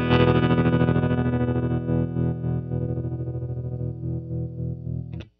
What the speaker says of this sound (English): I'm gonna press this momentary switch. It's selected on double, and that's gonna double my speed.